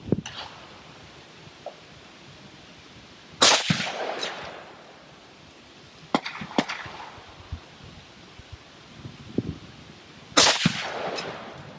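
Two sharp, loud rifle shots from a CMMG Resolute firing 68-grain Hornady match handloads on an outdoor range, spaced several seconds apart, with fainter clicks and rustling between them.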